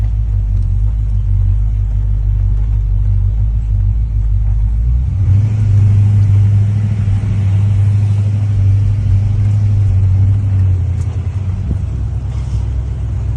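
A 1965 Chevrolet Impala convertible's V8 rumbles steadily while driving, a loud low drone that swells and deepens midway as it pulls, heard from inside the open car.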